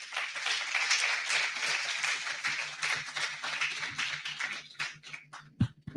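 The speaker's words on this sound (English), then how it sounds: "Let's keep the applause going" Audience applause at a diaspora conference, sustained clapping that thins out toward the end into a few scattered claps, with a faint low hum underneath.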